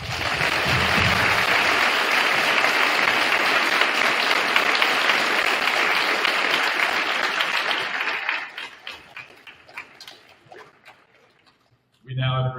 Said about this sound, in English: Can we do another round of applause, please?